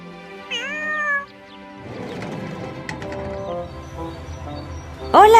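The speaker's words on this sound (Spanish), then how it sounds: "Este es un gatito." A kitten gives a clear, close meow near the start, followed by rustling and clatter, then a second sharp meow at the end; no talk is heard.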